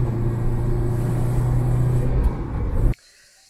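Car engine near Mount Olympus in northern Greece, a steady low rumbling drone held for about three seconds, then cutting off abruptly to near silence.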